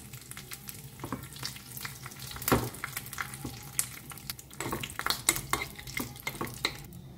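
Curry leaves, urad dal and a dry red chilli frying in oil as a tempering, with a soft, steady sizzle broken by spoon stirring scrapes and a few sharp clinks against the pan.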